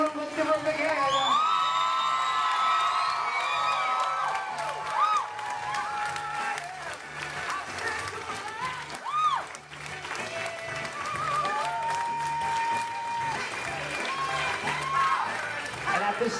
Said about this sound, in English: Let's keep your applause going.